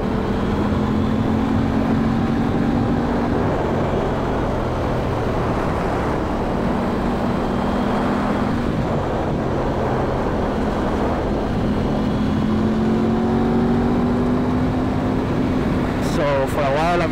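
Aprilia RS 660 motorcycle engine droning steadily while riding, a continuous close engine tone with gradual pitch shifts under constant wind rush.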